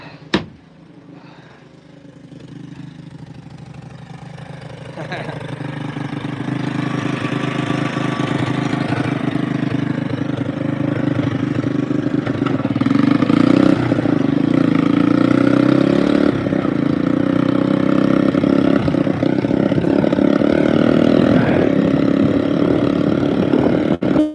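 Engine of an old vehicle called Big Red with no working brakes, idling steadily and rising into a louder, rougher rev partway through, close and continuous with no talk over it.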